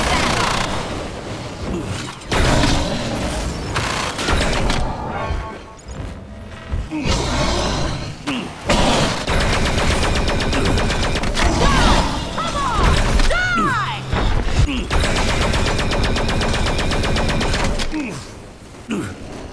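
Heavy gunfire from big weapons in the video game Evolve, a dense, loud barrage of blasts and impacts running almost continuously, with game effects and a voice mixed in.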